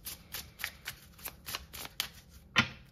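A tarot deck shuffled and drawn by hand: soft, quick riffling swishes repeat at a steady pace, close and quiet, ending in one sharper snap as a card is pulled.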